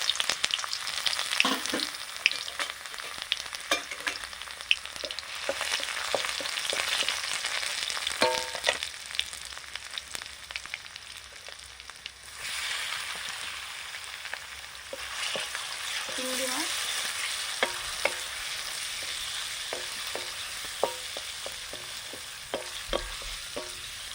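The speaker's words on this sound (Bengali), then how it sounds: "সর্ষের তেল দিয়ে শুকনো লঙ্কা দিলাম রসুন কুচি" Dried red chilies and chopped garlic frying in mustard oil, a loud close sizzle with frequent stirring scrapes and spatters that eases briefly midway before picking up again.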